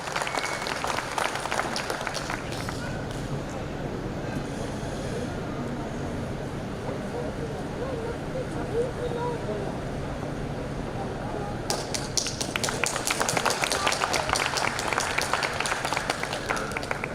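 Loud, sustained applause from a crowd at a Punjab farmers' gathering welcoming Dr. Salman onto the stage, a dense wash of clapping with murmuring voices mixed in that swells with sharper claps near the end.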